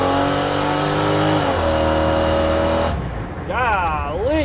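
A 1956 Chevrolet 3100 truck with a big-block 454 V8 revs loud and close, a steady deep idle climbing through a few sharp throttle blips and swooping revs, with some talk mixed in.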